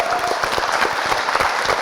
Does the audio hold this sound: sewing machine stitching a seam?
no